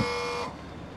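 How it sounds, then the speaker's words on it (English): A loud, steady electronic buzz with a harsh tonal edge from a Mitsubishi i-MiEV electric car's pedestrian warning buzzer sounds for about half a second as the car prepares to drive off, then cuts off, leaving low background rumble. "a buzzer that sounds when the car's about to drive off"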